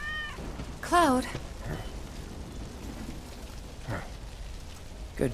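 A cat in the Final Fantasy VII Remake game gives one clear, rising-and-falling meow up close, set against a soft hiss of rain-like background ambience and a few faint thumps.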